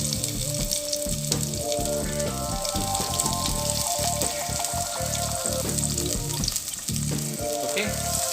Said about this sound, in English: Once the oil heats up slightly, I'm going to add my onions.